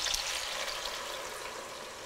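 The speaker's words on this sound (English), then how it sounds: "what I'm going to do is deglaze with my beef broth" Beef broth hits a hot pan of browned meatballs for Stroganoff, a loud, continuous sizzling hiss with a rushing, watery texture, close up and unbroken.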